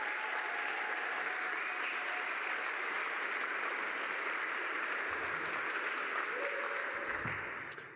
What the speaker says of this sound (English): Maybe one more round of applause for our resident badass, Kara Jones.